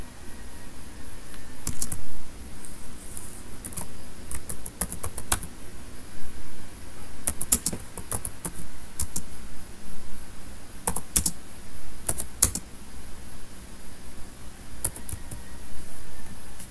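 Fingers type on a computer keyboard in bursts of rapid clicking keystrokes, close and fairly loud, with short pauses and quieter stretches between runs.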